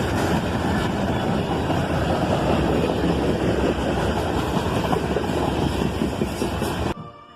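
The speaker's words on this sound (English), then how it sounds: "This slow-moving train would come by during a homecoming parade." A slow-moving BNSF freight train, a Dash 8 locomotive leading an AC44CW, rumbles past during a homecoming parade with a steady loud roar of engines and rolling cars, ending abruptly.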